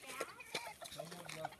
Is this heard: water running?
no